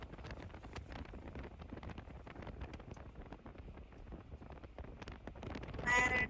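Strong storm wind buffets the microphone during a roadside squall, a low rumbling roar that stays steady and rises near the end. A faint whistling tone briefly cuts through.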